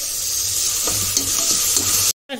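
Tomatoes and fenugreek leaves frying in a mutton curry pan, a continuous bright sizzle with soft stirring taps, cut off abruptly near the end before a short return of sound.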